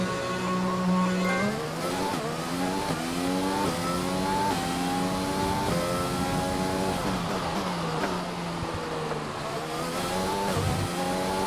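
A Mercedes-powered Formula 1 car in the F1 2020 game, at the Australian Grand Prix, revs hard and continuously. Its high engine whine climbs and drops through repeated gear shifts, loud and close, with no talking.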